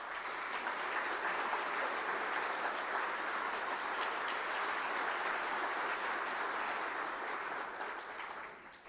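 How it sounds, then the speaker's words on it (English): A large audience at a government state address gives a sustained round of applause for a championship team, dense, steady clapping that holds evenly for several seconds before tapering off at the end. "Give them a round of applause."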